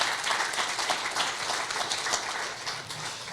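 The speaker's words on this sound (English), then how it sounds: "Another round of applause." A crowd at a Black History Month opening event claps in a steady, dense round of applause that holds at an even level throughout.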